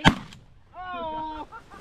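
A single loud shotgun blast during a fall snow goose hunt, sharp and close outdoors, followed by a drawn-out tonal call that sounds like a goose honk, then quieter sounds trailing off.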